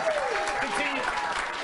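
Studio audience applauding on a late-night talk show, dense steady clapping with a voice or two cutting through underneath.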